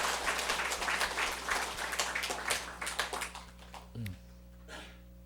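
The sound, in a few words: church congregation applause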